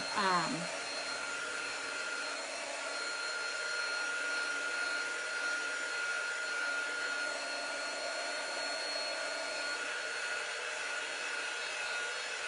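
A hair dryer blows on painted stars on a Halloween pumpkin, a steady, close, continuous whooshing whir that holds without a break.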